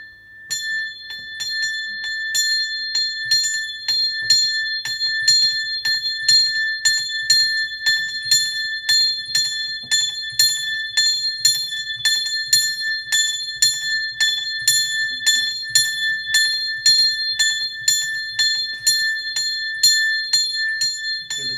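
A small 2 kg bell rung steadily for its blessing, struck in a fast, even, repeating rhythm of bright metallic strokes with a sustained ringing tone, close and fairly loud throughout, with no voices over it.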